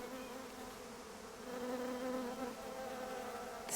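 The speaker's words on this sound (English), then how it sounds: "The sound of bees is the sound of spring, as they make their way from flower to flower" Bees buzz among spring flowers in a garden at Gravetye Manor in West Sussex. A close, steady droning hum rises in loudness partway through, and one bee sounds nearer near the end.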